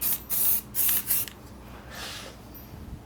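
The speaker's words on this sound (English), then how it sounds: "So just kind of lightly spraying it." Three short bursts of spray paint from a can hiss close by, evenly spaced, followed by a fainter, softer spray and quiet handling noises.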